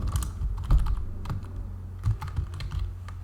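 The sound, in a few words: typing a code comment on a computer keyboard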